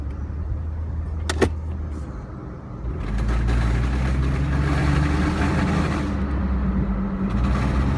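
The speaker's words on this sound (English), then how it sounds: "the front drive shaft made this sound" Drive shaft noise from a lifted Jeep Wrangler on 35-inch tires running in four-wheel drive, with a strained upper joint: a steady, loud low rumble and drone throughout, getting heavier after a brief lull near three seconds.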